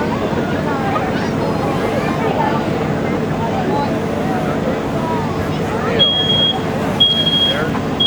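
Short, high electronic beeps of a smoke alarm sound twice near the end of a fire company's flashover simulator demonstration at an outdoor community event, amid a busy mix of crowd chatter and rumbling background noise.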